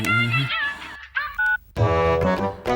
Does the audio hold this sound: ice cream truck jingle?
no